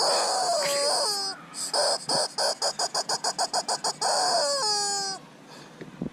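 A rooster crows loudly and close, its call broken into a rapid series of pulsing notes before trailing off into quiet.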